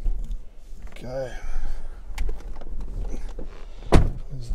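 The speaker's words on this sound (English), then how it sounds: "There's the door." A door on a 2000 Mercedes-Benz S55L AMG shuts with a single solid thunk near the end, preceded by rustling, a brief whirring motor sound and soft voice fragments in a quiet cabin.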